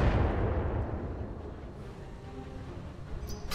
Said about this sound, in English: Someone is vomiting missiles at us.